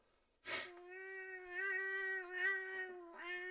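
A domestic cat lets out one long, drawn-out meow close by, starting with a sharp breathy burst and then holding a steady, wavering yowl for about three seconds, with no talking over it.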